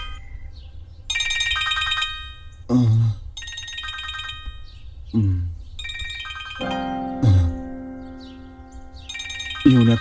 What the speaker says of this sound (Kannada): ಇವನೇ ಫೋನ್ ಮಾಡ್ತಾವನೆ